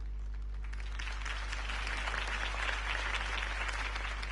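A crowd applauds steadily in the video game Batman: The Telltale Series, a dense wash of clapping that swells slightly midway, over a low constant hum.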